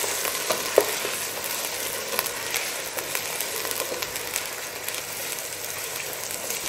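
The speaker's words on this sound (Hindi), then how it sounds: "पहले चिकन को हम फ्राई कर लेंगे।" Chicken frying in a karahi for a street-style Cholistani chicken karahi gives a steady crackling sizzle, with occasional sharp clinks and scrapes of stirring.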